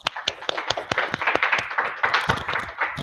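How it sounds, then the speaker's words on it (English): An audience applauds after a scientific talk on brain mapping, with dense, steady clapping from many hands filling the room and no voices over it. "Let's give you an applause."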